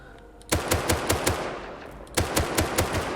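A semi-automatic rifle fitted with a muzzle brake fires in the game Rust, two rapid bursts of about five and six sharp, evenly spaced shots split by a short pause, loud and close, no voices.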